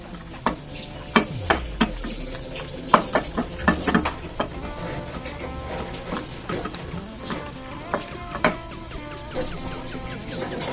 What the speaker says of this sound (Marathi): मिरसांग मातशें भाजया.